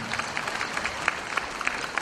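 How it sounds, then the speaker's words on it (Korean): An audience at a Disabled Persons' Day ceremony applauds two award recipients receiving plaques, a steady, moderately distant wash of many hands clapping throughout. "감사패를 수상하신 두 분에게 큰 박수로 축하해 주시기 바랍니다."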